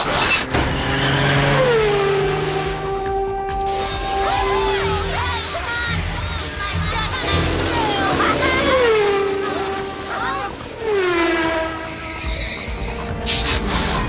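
A cartoon race car roars along with rising and falling engine whines and repeated tire skids and squeals, loud and close, with crowd-like noise beneath it.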